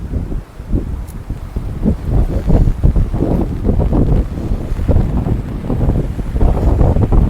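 Strong wind during flooding at Girna dam buffets the microphone with a heavy, continuous low rumble that surges and gusts close up throughout, with no speech.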